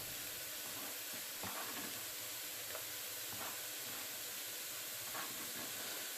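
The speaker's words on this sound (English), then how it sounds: "the onions are caramelizing nicely away" Onions caramelizing in a pan with garlic added give a steady broadband sizzle and hiss, with faint occasional stirring scrapes and pops, continuous and close with no voices.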